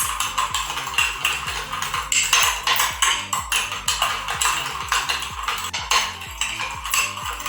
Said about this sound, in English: Give it a nice stir for a good 2 minutes.